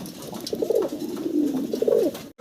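A pair of fancy pigeons on a farm coo close by in rolling, repeated low phrases that swell and fade over a quiet background.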